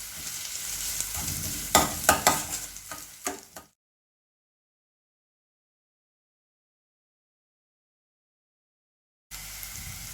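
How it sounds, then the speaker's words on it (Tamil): Onions frying in a pan for spicy mini kozhukattai, a crackling close sizzle with sharp stirring knocks, then a sudden cut to silence before the sizzle briefly returns at the end. "இதில் வந்து வெங்காயம் போட்டுக்கலாம்"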